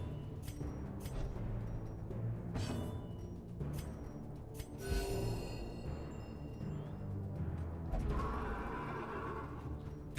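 A horse whinnies in the Darkest Dungeon video game, a drawn-out neigh rising over game music and ambience. Hoof-like thumps and other effects come before it, fairly quiet overall.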